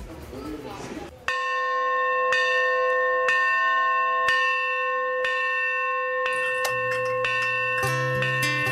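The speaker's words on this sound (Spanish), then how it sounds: "volver a escuchar la vieja campana sonar de esta manera" An old school bell rings with slow, resonant strokes about once a second, each leaving a long ringing tail, with a low tone joining near the end.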